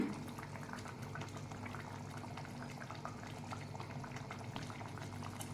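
A pot of egg curry simmers and bubbles steadily, a soft continuous burble of popping bubbles heard close up and fairly quiet, with no voices over it.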